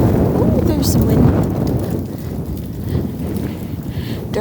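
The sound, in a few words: wind blowing outdoors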